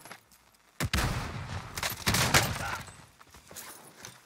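Gunfire in the video game Modern Warfare, a sudden loud burst followed by a rattling run of shots and a second flare of firing that fades out, close and alone without talk.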